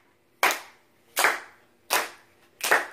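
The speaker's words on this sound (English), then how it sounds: "Yeah, sure, you can clap." Four sharp, evenly spaced claps from an audience clapping along in unison, each a crisp snap with a short decay, fairly close and alone.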